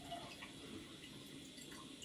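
Watercolor painting water being changed in a cup, a steady trickle of running, splashing water from a tap filling or rinsing, continuous and fairly close, with no talking.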